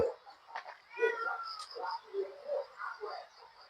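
A cat meows repeatedly in short, moderately loud calls spaced through the moment, with a faint steady hum in the background.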